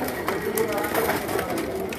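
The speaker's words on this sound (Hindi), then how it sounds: "टैडी कबूतरों का खुड्डा आपको दिखाते हुए।" Teddy pigeons coo softly and steadily inside their loft, a low continuous murmur of several birds with people talking over it throughout.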